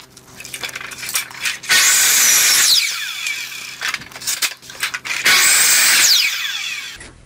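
A saw cuts a sharp compound angle in wood for a garden obelisk trellis at a miter box in two loud, rasping bursts, with quieter handling clicks and knocks between them.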